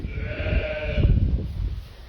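A ewe close to giving birth on a farm gives a loud, close, drawn-out wavering bleat that lasts about two seconds over low rustling and handling noise, with no speech.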